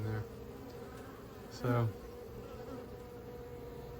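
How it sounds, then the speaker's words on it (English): A dense swarm of honeybees hums steadily and closely during a bee vacuum removal, a continuous buzzing drone that fills the clip, with a brief louder burst near the middle and a single spoken word at the start. "There's a lot of bees hiding back in there."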